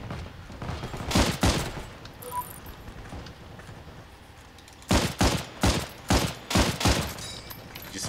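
Video game deathmatch gunfire: rapid bursts of shots, a cluster early on, then a quieter stretch, followed by a longer run of repeated loud volleys.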